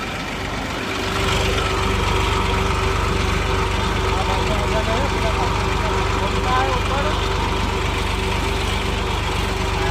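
A tractor engine runs steadily in heavy rain on a muddy field track, with a constant loud drone and rain hiss throughout.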